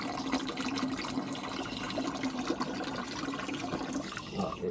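A submersible pump pushes water through a flexible hose into a bucket pond filter, making a quiet, continuous splashing and trickling that holds steady throughout.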